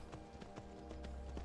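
Horse hooves clip-clop in a quick, steady rhythm as a rider travels on horseback in the video game Skyrim, set in survival mode. The footfalls sit under a constant, faint background bed and are close but quiet.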